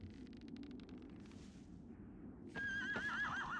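A horse from the video game Shadow of the Colossus whinnies loudly and clearly in the second half, preceded by a faint low rumble and soft shuffling with no talking.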